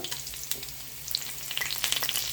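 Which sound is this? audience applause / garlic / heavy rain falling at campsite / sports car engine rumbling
garlic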